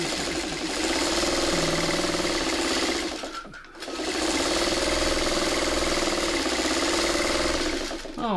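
A sewing machine that sounds a little rough runs fast and close while stitching webbing and sashing for a quilt, pausing briefly in the middle before starting up again.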